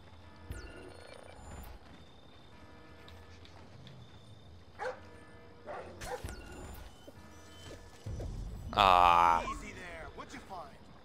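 A dog barks and yelps in the stealth video game Splinter Cell: Blacklist, with a few scattered short calls and one louder burst near the end, mixed among game sounds while someone talks.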